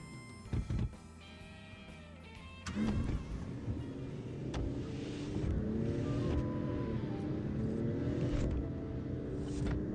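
A car engine in Final Fantasy XV hums and rumbles steadily, rising slightly as it drives, with a couple of short thumps near the start.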